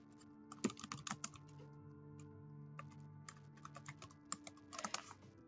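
Computer keyboard typing in a quiet office as a reason for reopening a case is entered into case-management software, with irregular clusters of close, crisp key clicks over a faint steady hum.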